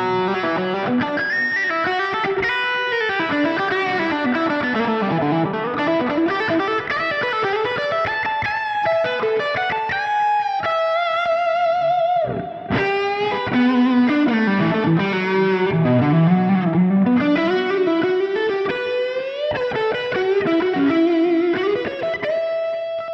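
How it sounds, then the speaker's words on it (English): Eastman Romeo hollow-body guitar with Lollar humbuckers plays a high-gain distorted rock riff, loud and continuous with sustained chords and single-note runs and a brief pause midway, no voices. "you can absolutely still use this guitar for higher gain rock tones"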